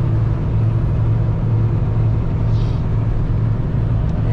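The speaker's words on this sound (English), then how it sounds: "road noise, wind noise." Steady low road rumble inside a moving car, a constant droning noise with no breaks, fairly loud and close, with no talking.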